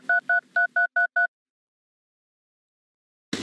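A telephone number being dialed in a television ad for a law firm: six crisp touch-tone beeps in a quick, even run, followed by silence and then a sudden burst of louder sound at the end.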